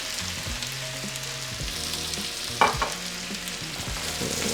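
Sausage, onions, peppers and potatoes sizzle in olive oil in a big pan, with a steady frying hiss, a few scraping stirs and one sharp clank of a utensil.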